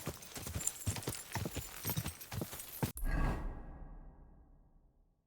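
Horse hooves gallop in quick clip-clop beats with rushing movement noise in the video game Kingdom Come Deliverance 2, then break off abruptly into a low fading rumble as the horse slows.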